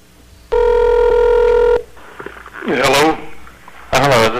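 A single steady telephone tone sounds for about a second while a call is placed, followed by voices speaking over the line.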